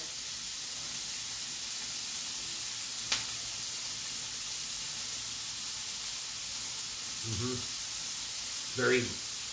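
Onion dropped into a hot pan, giving a steady broadband sizzle that runs throughout at moderate level, with a few brief clinks and stirring sounds near the end.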